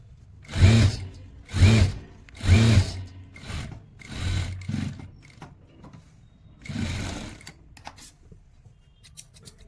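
A sewing machine stitches elastic onto stretched fabric for a pair of pants, running in several short, rhythmic motor bursts with pauses between, close and moderately loud, with no voices.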